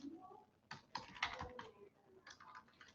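Close, quiet clatter of typing on a computer keyboard, a few short bursts of keystrokes separated by small pauses.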